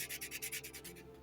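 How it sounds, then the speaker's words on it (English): Sandpaper rubbing along a laser-cut wooden frame for a model of the 1774 ship HMS Enterprize, heard as a quick series of close, rhythmic scratchy strokes that slow and fade near the end. "then I take the sanding paper and I will go"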